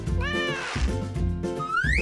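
A cat meows loudly and close by, two long drawn-out calls with rising and falling pitch, filling the whole moment alone.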